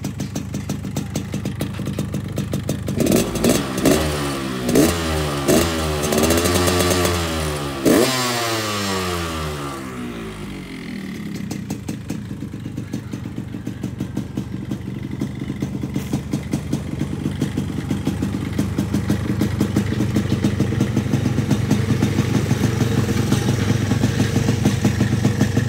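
A Yamaha RX King two-stroke motorcycle from 2005 revs several times with rising and falling engine pitch, then settles into a steady, buzzing idle, loud and nearby throughout.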